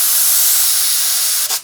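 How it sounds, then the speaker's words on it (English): Steam wand of a Bezzera Nini espresso machine blasting a steady, loud hiss that holds for over a second and then cuts off abruptly with a brief burst, no talking. "The Nini features joystick-style steam and hot water wands, which are instant on and instant off. I'll show you on the steam side here."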